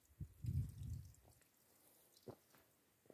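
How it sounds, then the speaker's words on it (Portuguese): Faint water trickles and burbles down rock at Cachoeira do Xixá in Piauí, then thins to a few soft, scattered drips. It is quiet and close, with no voices. "Tem aqui uma águazinha que escorrendo aqui ainda"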